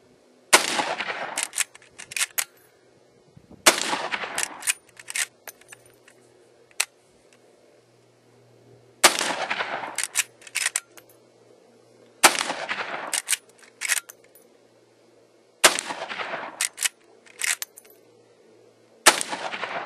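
A Winchester Model 94 lever-action rifle fires .32 Winchester Special rounds outdoors, six loud, booming reports spaced a few seconds apart, each followed by clicks and clatter of the lever action between shots.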